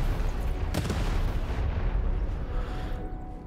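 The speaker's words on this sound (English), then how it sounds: "Hit the button to fire the cannon." Cannon firing in the video game Lost in Random, a loud booming blast with a sharp crack early on, followed by a long, dense rumble that slowly fades, with no talk.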